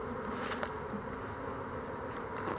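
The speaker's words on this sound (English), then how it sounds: "we're going to scoop some of those bees there from the edge" Honey bees hum in a soft, continuous drone as they are scooped from the edge of a hive, quiet and even throughout.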